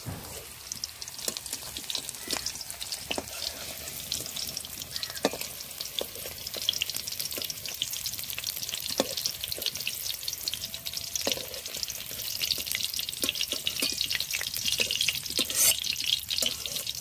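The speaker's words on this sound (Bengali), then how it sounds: "বন্ধুরা পনিরগুলো ভেজে নিয়েছি, এখন তুলে নেব" Paneer pieces fry in hot oil with a steady, close crackling sizzle, punctuated by sharp spatters and stirring clicks throughout, with no talking.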